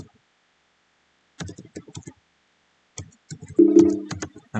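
Clean command typed on a computer keyboard: short bursts of quick, close key clicks separated by silence, ending in a firmer run of keystrokes.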